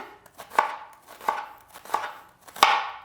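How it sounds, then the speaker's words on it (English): Knife slicing through an onion on a loud cutting board in a home kitchen, giving four sharp, evenly spaced chops with crisp crunching, close and clear with no talk. "I'm going to slice down the onion very quickly"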